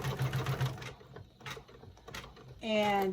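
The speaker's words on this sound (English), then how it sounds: "It's stitching away. This is the second to the last stitch doing the name." An embroidery machine stitches a name, its needle tapping out a rapid mechanical rhythm close by, pausing briefly between bursts before a louder whirring run at the end; someone talks quietly beneath.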